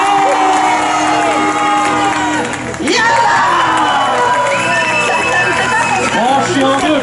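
A medieval combat show crowd in Angers, knights against barbarians, shouts, cheers and whoops loudly and continuously, with an announcer's voice mixed in and the noise dipping only briefly midway.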